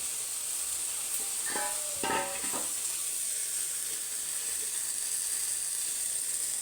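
Fish curry bubbles and sizzles in a pot as a faint, steady hiss, with a brief scraping stir near the start and no voices.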